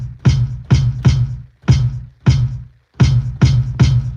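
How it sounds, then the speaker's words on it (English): Drum sample triggered from a pad on an Akai MPC 1000, struck eight times in a loose, uneven rhythm. Each hit is a sharp, loud attack with a booming low body, and the hits stand alone with nobody talking. "So now I'm just going to hit this pad"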